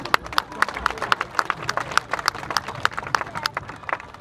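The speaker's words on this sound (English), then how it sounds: "let's clap for her now." A street-show audience in Amsterdam claps steadily for a performer's assistant, a dense, even burst of applause from a crowd nearby, with no voices over it.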